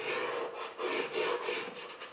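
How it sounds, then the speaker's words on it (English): Vinyl decal being firmly burnished onto a wooden sign, a steady scraping rasp that swells and eases in repeated strokes, close and continuous with no voices. "So be diligent with your burnishing here."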